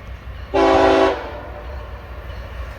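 A freight train over 600 axles long approaching, its horn giving one loud sustained blast of about half a second over a low rumble of rolling cars.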